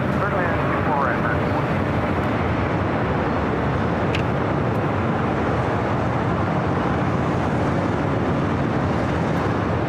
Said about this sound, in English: American Airlines Flight 1480 coming in from Honolulu, also an A321neo.